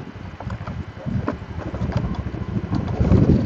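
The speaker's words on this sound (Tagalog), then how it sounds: "Kakaiba yung tunog ng motor ko ah." A motorcycle engine rumbles low and steady while riding, with wind buffeting the microphone throughout; the engine sounds odd, as if losing power.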